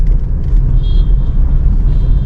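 Steady low engine rumble of a car driving along, close and continuous, with faint road noise and a thin whine above.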